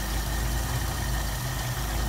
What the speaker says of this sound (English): it slows the engine down